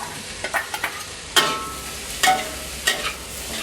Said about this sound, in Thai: ผัดไปเรื่อยๆนะครับ เราจะใส่มันฝรั่งตามไปเลยนะครับ